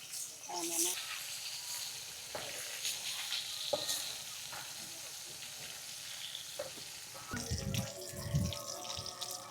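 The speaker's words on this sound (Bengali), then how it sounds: "দেখিয়েন পাঙ্গাস মাছ তো ওই জন্য তেল ছিটতেছে" Pangas fish frying in hot oil that spatters, a constant close sizzle and crackle with water running and splashing near the end, and people talking over it.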